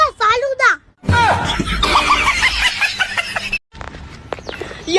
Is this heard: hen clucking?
yes